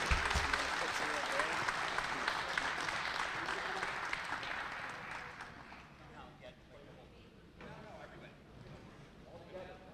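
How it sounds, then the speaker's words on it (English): A crowd at a high school basketball senior night claps in sustained applause for the senior players, starting loud and gradually fading to scattered clapping. "Let's have a big round of applause for the senior members of the basketball program"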